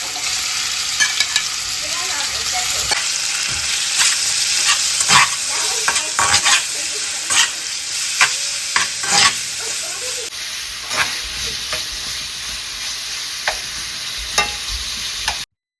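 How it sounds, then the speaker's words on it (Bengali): Chicken shawarma sizzles and fries in a pan while being stirred, with a steady hiss broken by repeated scraping and clinking stirs, close and loud and with no talking. "আর এখন হচ্ছে আমি বসিয়ে দিচ্ছি হচ্ছে শর্মা চিকেন"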